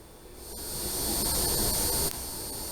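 An N scale model train locomotive runs across a layout as a steady, close whirring rumble with a high whine, swelling slightly and then holding even, with no voices.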